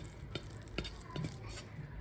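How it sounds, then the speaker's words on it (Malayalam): Rice is tipped into a pan for prawn biryani, giving a soft sizzle with scattered scraping and clinking strokes and a sharp clatter at the very end. "Taking 2 hands and putting the rice."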